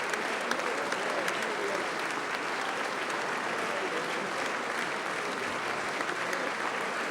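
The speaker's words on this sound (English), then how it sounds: "And you're hearing the applause of the gathering as the governor makes his way to the podium." Steady, evenly sustained applause from a gathering at the West Virginia 2012 State of the State Address as Governor Earl Ray Tomblin walks to the podium, a broad wash of clapping throughout.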